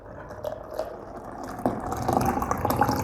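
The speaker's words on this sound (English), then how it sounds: "And then I pour in my hot water." Very hot water is poured over turmeric in a cup, giving soft close trickling and splashing that grows fuller as the vessel fills, with no talking.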